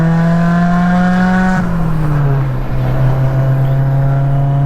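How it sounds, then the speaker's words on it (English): A Mazda Miata fitted with new suspension and a cam drives on a test run, its engine droning steadily and loudly close to the microphone, with the pitch dipping slightly midway as it shifts or eases off. "So we're test driving the Miata."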